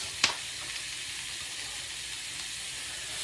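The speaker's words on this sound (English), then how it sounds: "I want to apply a little pressure so I can get a nice gold sear over the top" A lobster cluster sears in a hot pan while being pressed down, giving a soft, steady sizzle with a brief sharp crackle near the start.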